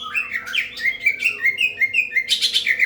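A white-rumped shama (murai batu) sings close and clear, delivering a rapid run of bright whistled notes and chirps in quick succession, with no voices over it.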